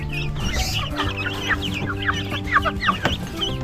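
Chickens cluck close by in a short, busy run of overlapping clucks and calls from several birds, with no talk.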